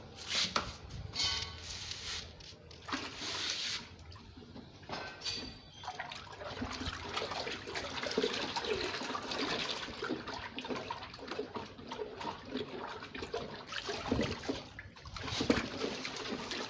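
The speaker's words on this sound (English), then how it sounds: "we now pour into the bigger batch" Liquid soap mixture pours and splashes into a bigger batch container with gurgling, uneven bursts, close by, in a quiet room.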